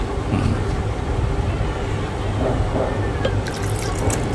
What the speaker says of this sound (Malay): Ni bagi sikit air.